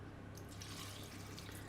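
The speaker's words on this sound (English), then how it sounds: "and you put in the water" Water poured into a pan of dates over low heat, a steady continuous splashing stream running throughout the short stretch with no talk.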